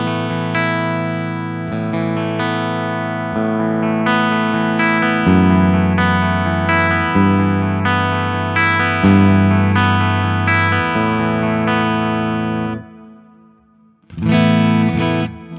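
A PRS Hollow Body II guitar, with its piezo and electric pickups blended through an electric guitar amp, plays jazzy sustained chords and melody lines in a bright, full tone, pausing briefly before a final chord.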